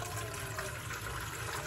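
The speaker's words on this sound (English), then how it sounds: "Fill the almond cow base to the minimum line 5 cups with warm water." Warm water pours steadily into the base of an Almond Cow milk maker, a continuous close, soft rushing stream with no voices over it.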